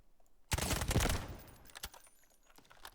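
Gunfire from a weapon loaded with green ammo on a Delta Force firing range: a loud, dense burst of rapid automatic shots up front, then a few sparser cracks trailing off, with no talk.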